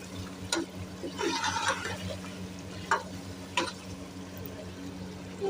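Taro (arbi) stir-frying with yogurt in a pot for a home-style curry, giving a soft steady sizzle with a few sharper scraping clinks of the spoon against the pot, close by.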